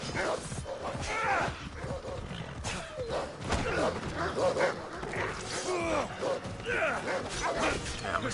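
Wolves snarl and bark in Assassin's Creed Odyssey, a dense, continuous run of growls and yelps mixed with busy game sounds, with a horse nearby in the fight.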